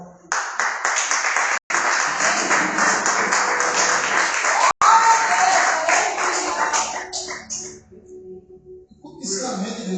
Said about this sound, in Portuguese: aplaude o Senhor Jesus,